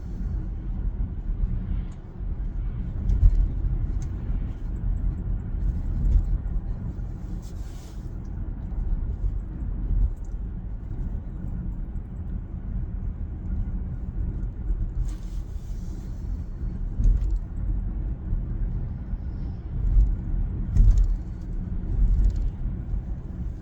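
Tesla cabin at 45 mph on a suburban road, a steady low rumble of tyre and road noise with faint intermittent clicks and rustles, continuous and fairly quiet with no talk.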